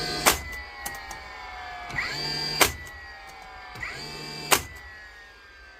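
A DeWalt DCN660 cordless nailer is test fired after a repair, giving three sharp, close cracks spaced about two seconds apart, each followed by a rising motor whir as the mechanism resets.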